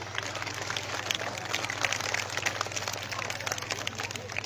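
Audience applause for the performing artists at an all-India culture festival stage event, a dense, steady patter of many hands clapping at moderate volume over a low electrical hum.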